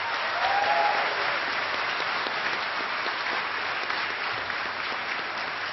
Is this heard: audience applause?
yes